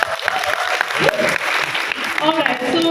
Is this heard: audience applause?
yes